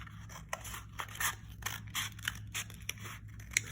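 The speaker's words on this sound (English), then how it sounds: "take some scissors and you're going to cut some strips of the toilet paper roll" Scissors snip strips from a cardboard toilet paper roll, a steady series of close, crisp cuts about every half second over a low background hum, with no talk.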